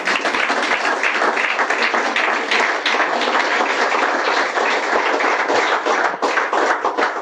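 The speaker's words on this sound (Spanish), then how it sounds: "Denle un aplauso al Señor de Reyes." A church congregation applauds during a Spanish-language sermon, dense, continuous clapping that stays loud and even for several seconds.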